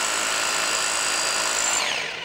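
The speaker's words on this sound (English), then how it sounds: "Let's see it hammer." A Bosch SDS rotohammer hammers continuously, a loud, fast buzzing rattle that holds steady before winding down at the end.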